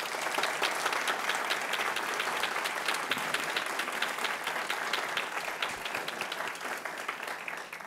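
An audience at an award ceremony claps for the nominees, a full sustained round of many hands with brisk crisp claps that stays strong and even before easing slightly near the end.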